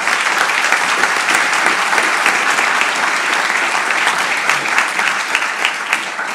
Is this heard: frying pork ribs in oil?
no